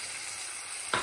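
A pan of mushroom and chickpea stroganoff with garlic, Dijon mustard and nutritional yeast sizzles steadily and close, and a brief stir near the end adds a soft scraping swish.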